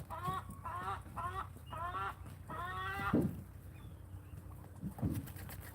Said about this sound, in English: Just happy birds.